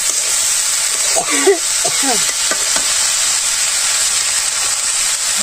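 Vegetables fry in a pan with a loud, constant sizzle and steamy hiss as they are stirred, and a voice briefly speaks over the noise.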